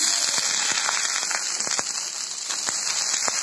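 Water poured onto a hot tawa griddle sizzles and crackles steadily with scattered sharp pops, a close, continuous hiss with no talking over it.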